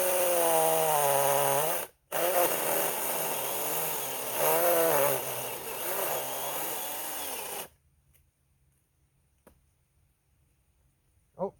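A mini 4-inch electric chainsaw runs loud and close, with a steady motor whine rising and dipping as it cuts. It cuts out briefly near two seconds, then stops around eight seconds, leaving near silence and a few faint knocks.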